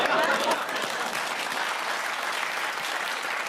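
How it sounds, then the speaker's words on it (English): A studio audience on a comedy panel quiz show breaks into steady, fairly loud applause that fills the whole stretch, with a brief murmur of crowd reaction at the start. "They thought about it. Thought, no, they deserve a clap."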